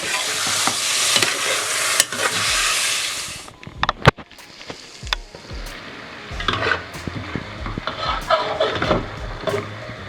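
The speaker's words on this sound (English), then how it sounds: "it has been frying for about a minute or two" Loud, steady sizzling of unseasoned chicken frying in a hot pan for a curry, with occasional stirring clatter and scraping; no talking.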